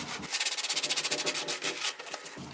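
Shower head scrubbed to remove limescale buildup, a rapid run of close, rhythmic rasping strokes that fades into looser rubbing.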